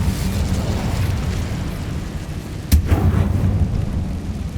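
A fiery spell cast in the Hogwarts Legacy video game: a single sharp burst, followed by a brief crackling whoosh, over a steady low rumble of game ambience.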